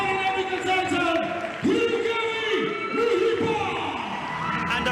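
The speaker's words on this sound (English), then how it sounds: "the crowd goes wild for our winner, Mushipa." A live boxing crowd cheers and roars for the winner of a Sub-Saharan African title bout, a steady dense wash of voices under a loud announcer speaking over it.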